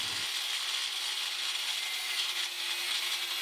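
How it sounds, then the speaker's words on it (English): Power saw cutting through the metal frame of an old broken pipe bender, a continuous harsh grinding hiss that holds steady and loud at close range for the whole stretch. "what we're going to do is cut that up and make it into a frame"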